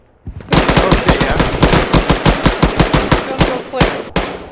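Sustained automatic gunfire in the video game Arma 3 during a close firefight, a loud, near rapid stream of shots with a few brief pauses.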